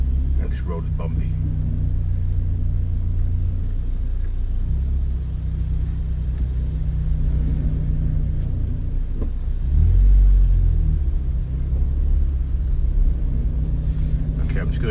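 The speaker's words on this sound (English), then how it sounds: "This car's low, and this road is bumpy." Steady low engine rumble of a lowered Ford Fiesta ST driving slowly, with occasional thumps and jolts from a bumpy road and some speech over it.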